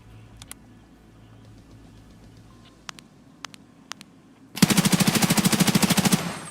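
A spear rifle in a video game fires a rapid burst after a few scattered clicks, roughly fifteen evenly spaced shots in quick succession, loud and close, with a kicking, rattling rhythm.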